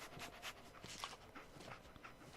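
Dogmeat, the dog companion in the video game Fallout 4, pants in quick, soft breathy bursts, close and fairly quiet, with no talk over it.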